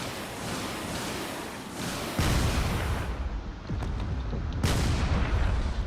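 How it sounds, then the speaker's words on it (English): Torpedoes striking the stern of a carrier in a drone-warfare video game, heard as a dense roar of heavy booms and blasts with a sharp impact near two seconds and another burst near the end, loud and continuous. "Those torpedoes end up hitting the back."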